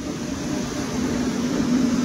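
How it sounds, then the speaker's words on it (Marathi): A passenger train pulls into an Indian railway station, its steady low rumble and rolling hum holding constant and fairly loud throughout, with no voices over it. "दुसरी ट्रेन आली बुवा आता ही"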